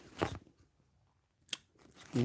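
Someone eating a meal of oven-baked salmon, sweet potato, string beans and mixed vegetables, with a few close crunchy bites and chewing noises separated by quiet pauses.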